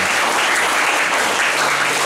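An audience breaks into loud, dense applause to welcome a speaker to the stage, steady and close-sounding for the full two seconds with no voices on top.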